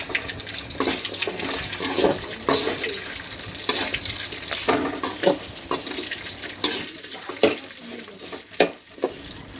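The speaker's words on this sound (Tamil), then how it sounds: "பெரிய வெங்காயம் 2, சின்ன வெங்காயம் ஒரு 10 போட்டு நல்லா வதக்கிறேன்" Large and small onions sautéing in a pan, a steady close sizzle broken by sharp clatters and scrapes of stirring throughout, with no talk.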